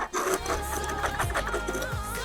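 A budget hand plane from a low-cost woodworking tool range shaves a wooden board in steady, close, loud strokes, a continuous rasping hiss that surges and eases with each pass, with no talking.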